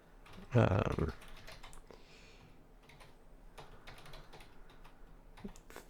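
Quiet, light tapping on a computer keyboard to log in, soft scattered keystrokes after a brief louder knock at the start, with faint room noise underneath.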